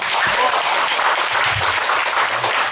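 An audience applauds a singer at a fan club launch event, with dense, loud, continuous clapping from a crowd that holds steady from start to finish.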